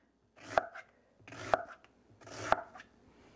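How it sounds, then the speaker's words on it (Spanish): Three crisp, evenly spaced knife strokes cut an onion into half-moons on a cutting board, each a sharp thunk against near silence, close up and with no speech. "y picamos toda la cebolla así"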